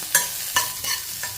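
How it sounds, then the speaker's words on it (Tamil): Onions sautéing in a pan: a soft sizzle punctuated by four scraping stirs of a spatula, close and fairly quiet, no voices. "இதை வந்து நல்லா வதக்கி விட்டுக்குருவோம்"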